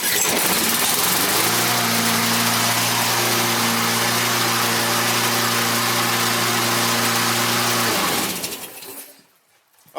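A Briggs & Stratton 190cc auto-choke lawn mower engine fires and runs at a steady, loud, buzzing throttle for about eight seconds close by, then is cut and quickly dies away to near silence.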